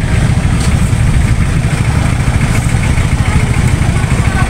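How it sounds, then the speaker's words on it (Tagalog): A motorcycle engine idles nearby, a loud, steady low throbbing chug that continues without pause, with no one speaking over it. "Hindi, makapasok yung motor."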